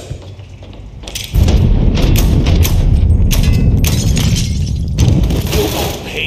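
Gunfire and explosive booms in the Mafia 3 video game, a sudden loud burst followed by sustained rumbling blasts and sharp cracks, dense and continuous with brief quieter gaps.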